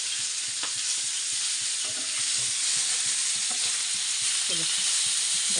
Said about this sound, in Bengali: ইলিশ মাছ ভাজা ইলিশ মাছ ভাজতে দিয়েছি